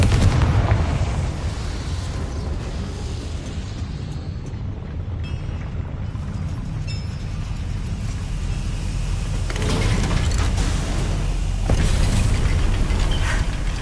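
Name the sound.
Confringo spell explosion in Hogwarts video game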